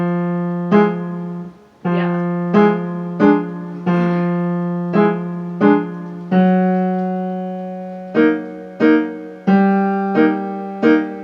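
Piano left hand playing the bass line of Khachaturian's Waltz from Adventures of Ivan, a steady run of separate struck notes in waltz rhythm with accented attacks over a held low tone, close and clear with no talking.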